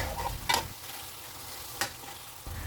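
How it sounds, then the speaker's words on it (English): Biryani masala sautéed in a pan over a high flame: a steady sizzle and frying hiss, broken by a few sharp scraping stirs of a spoon against the pan. "keep sauteing all of this for 1 more minute on high flame"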